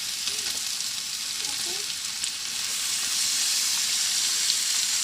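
Tomatoes go into a hot pan of salted onions for a crab roast, setting off a steady, close frying sizzle that grows a little louder partway through, with no talk.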